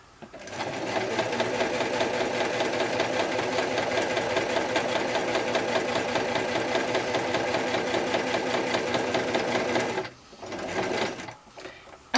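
A sewing machine runs a continuous quarter-inch patchwork seam, its rapid, even needle clatter loud and close for about ten seconds before stopping, followed by a short burst of handling and a brief restart.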